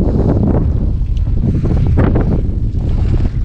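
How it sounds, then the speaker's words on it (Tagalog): Strong wind buffeting the microphone on an outdoor day tour in Tanay, Rizal, a steady loud roar with gusty swells and no talk. "Yun oh, sarap ng hangin."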